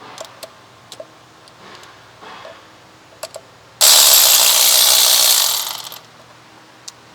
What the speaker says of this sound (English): I like to loosen them first and then use my electric ratchet to speed up the